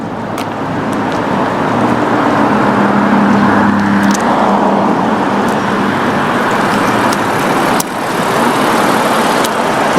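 Truck engine runs steadily at close range beside a roadway, a loud continuous rumble with traffic noise, a low hum and occasional sharp clicks or knocks.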